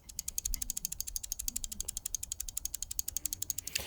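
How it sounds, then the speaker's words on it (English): A loose part rattles inside a G Wolves Mini Skoll gaming mouse, producing a fast, even train of small clicks held close, with no speech. "there's something rattling inside of this mouse"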